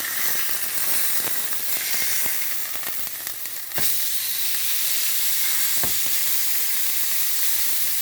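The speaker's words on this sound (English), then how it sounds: "So now we're just going to flip that bad boy." A New York strip steak sears in a pan of garlic-infused oil, giving a loud, constant, close sizzle with a few sharp pops and crackles.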